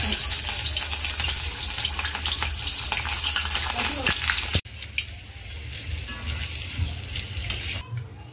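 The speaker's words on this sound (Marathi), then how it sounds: "मिरच्या तळून घेऊया थोड्याशा समोश्याबरोबर खायला" Slit green chillies frying in hot oil in a kadhai beside samosas give a loud, dense sizzle that drops abruptly partway through, then continues more softly with light crackling.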